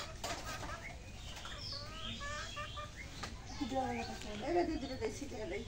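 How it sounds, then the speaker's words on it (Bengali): Pigeons flap their wings as they fly into their coop at a rural homestead on a cloudy evening, a soft fluttering that sits under nearby voices talking, with some bird calls mixed in. "কবুতরগুলো ঘরে উঠছে।"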